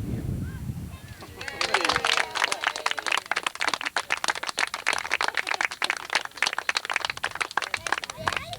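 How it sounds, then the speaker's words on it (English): An audience at a 50th wedding anniversary family celebration breaks into dense, steady applause after a couple of seconds and keeps clapping warmly, with a few voices mixed in underneath. "everybody ought to give a round of applause"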